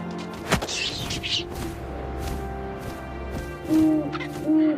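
Owl hooting in the video game What Remains of Edith Finch, a few low, breathy hoots toward the end over a quiet ambient bed, with a sharp knock early on.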